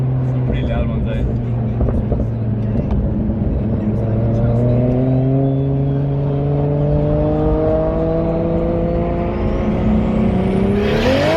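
A 620 whp Toyota Supra with a 2JZ engine and a screamer pipe revs loudly and continuously, its exhaust note climbing steadily in pitch to a high scream, with sharp crackling pops near the start.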